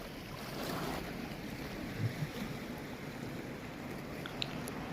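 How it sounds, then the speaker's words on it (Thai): Waves break on a rocky seashore at Khao Phlai Dam in Nakhon Si Thammarat. The surf keeps up a constant soft wash, mixed with wind buffeting the microphone and a few faint knocks, and no one talks. "ชม คลื่นน้ำซัดฝั่งทะเลสวยๆ นะครับ ในบริเวณนี้นะครับ"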